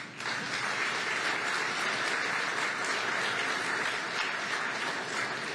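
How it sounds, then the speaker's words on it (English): Applause from a crowd of auto plant workers at a General Motors Flint Assembly announcement, a continuous, even patter of many hands clapping, steady from start to finish with no talk over it. "Give yourself a round of applause."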